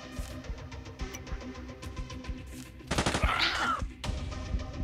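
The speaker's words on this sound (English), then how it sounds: "Gonna shoot this bitch." Gunshots in the zombie shooter game Cards of the Dead ring out repeatedly, with sharp cracks spaced through the clip and a denser burst of fire near the end, mixed with game effects.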